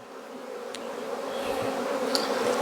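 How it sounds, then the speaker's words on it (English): Honey bees buzz steadily at an open hive during a strong fall nectar flow, a continuous close hum that swells gradually louder, with a couple of individual bees zipping past the microphone. "I'm not sure if you can hear the buzzing of the bees through my mic, but man, they are just buzzing and happy."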